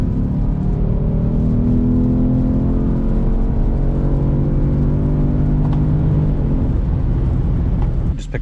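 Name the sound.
Mercedes C63 car engine driving off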